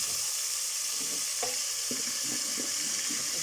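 Blended fresh tomatoes hit hot frying garlic in a pan, giving a continuous bright sizzle with soft stirring clinks and bubbling, close and steady throughout with no talking.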